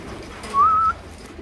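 Racing pigeons back from a 10 km training toss give a single short, clear tonal coo over quiet background hiss.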